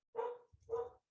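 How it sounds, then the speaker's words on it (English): A dog barks twice in the background of a home livestream, two distinct sharp barks about half a second apart, moderately near, with no talking. "My dogs are barking in the background."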